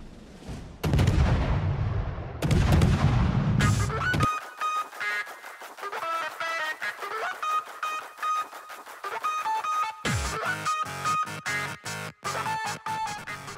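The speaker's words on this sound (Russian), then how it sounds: "за минуту получилось 140 выстрелов" A Smaland destroyer's guns fire in World of Warships, starting with a few heavy booming blasts and then a rapid, sharp, evenly spaced volley of shots at close range, with no talk.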